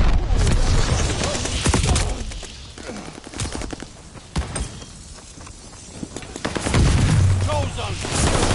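Gunfire bursts and a grenade blast from the Call of Duty: Vanguard shooter game, loud and dense at the start and near the end, with quieter stretches between them and voices talking over the action.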